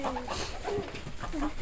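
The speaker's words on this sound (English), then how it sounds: "Ah, there's my speckled hen. Found a chicken." A speckled hen clucks in a few short, soft calls, with faint background noise around a young livestock guardian pup's introduction to chickens.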